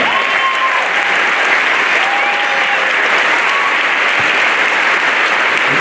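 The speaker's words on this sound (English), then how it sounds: "We can give them a round of applause." A large audience at a back-to-school kickoff event gives sustained, dense clapping that stays loud and even throughout, with a few faint whistles over it.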